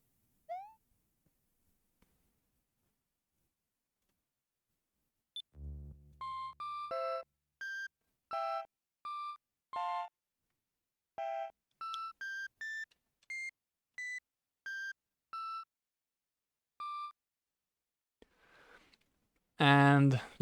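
Mario Maker level intro music from a video game: a thin, beepy synth melody of short evenly spaced notes forming a simple tune, with a brief thump before it and a dense burst at the end.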